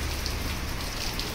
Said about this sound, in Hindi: ये बारिश भी स्टार्ट हो गया भाई